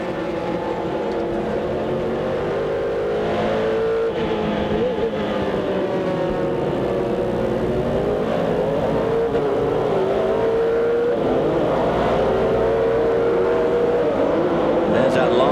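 Number 19 Cadillac race car at the 2000 Sebring endurance race, its engine droning loudly and steadily throughout with rising and falling pitch as it runs down a long straight, a commentator's voice faintly under the roar.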